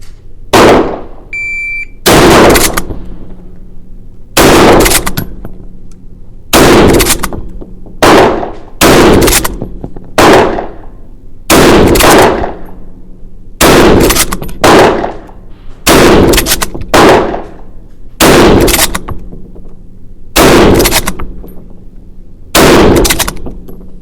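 Bolt-action rifles fired quickly at a range: about fourteen loud, sharp, nearby gunshots with short decaying echoes, evenly spaced every second or two, plus a brief electronic beep near the start, no talk.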